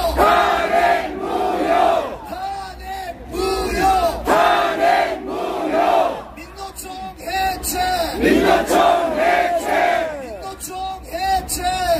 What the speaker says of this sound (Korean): 우리 완전히 한번 사랑의 표시로 함성 5초간 발성!